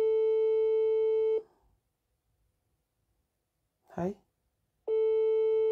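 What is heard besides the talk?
busy signal of unanswered phone call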